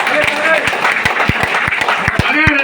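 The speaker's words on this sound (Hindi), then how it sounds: "तो आपके लिए एक ताली बजाइए ना।" An audience at a business success talk clapping in unison, loud, close and rhythmic, with a crowd murmur underneath.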